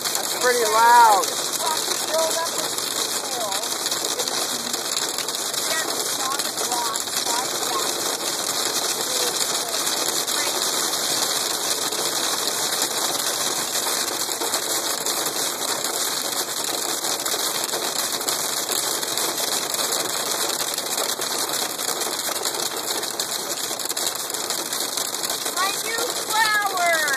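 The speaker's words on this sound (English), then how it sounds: "Hail!" Hailstones drum on a car moving up the Richmond Parkway, a loud, continuous rattle of countless small impacts on metal and windshield that holds steady throughout, with voices now and then inside the car.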